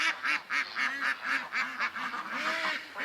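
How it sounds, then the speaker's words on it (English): Ducks quack in a yard by the water, a close, loud run of about a dozen rhythmic nasal calls in quick succession. "Usually I can hear the ducks quack and playing in the water."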